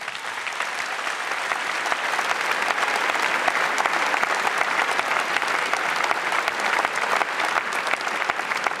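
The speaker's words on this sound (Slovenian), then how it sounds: "En aplavz za vse njih." Sustained audience applause filling a large event hall, dense steady clapping from a big crowd at a consistent loudness throughout, with no talking over it.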